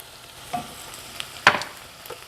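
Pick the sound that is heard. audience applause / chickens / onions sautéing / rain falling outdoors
onions sautéing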